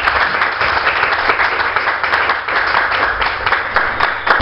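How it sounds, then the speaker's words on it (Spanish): A crowd at a church women's meeting applauds steadily and loudly, a dense wash of clapping that holds for the whole stretch. "Le damos un fuerte aplauso al Señor."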